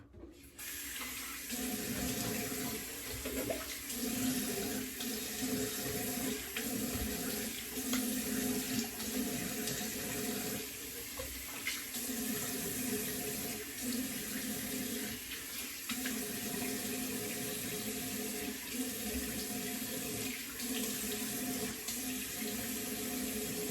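Water runs steadily from a tub faucet while someone rinses off in the bathtub, a continuous close splashing hiss lasting throughout with small fluctuations and no talk.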